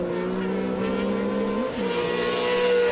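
Little rallycross cars race in a BTRDA championship round, engines droning steadily and close with a brief dip in pitch as one brakes hard into a corner, then the roar picks back up.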